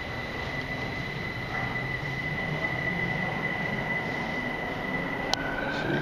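Steady rumble and hum of a Beijing subway train in motion, with a high squealing tone, a brief sharp click, and no voices.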